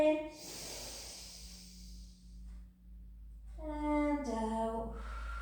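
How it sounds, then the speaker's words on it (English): A deep, audible breath drawn in and then released during a rehab pilates stretch, close and breathy against a low background hum, with an instructor's voice faintly heard around it. "Take a breath in"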